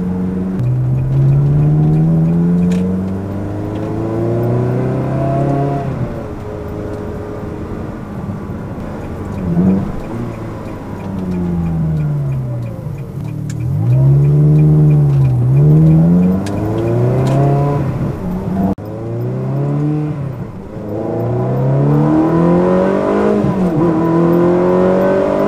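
A Ferrari 360 with a reprogrammed F1 gearbox revs in repeated throttle blips and sustained revs, its engine note rising and falling in loud, close sweeps.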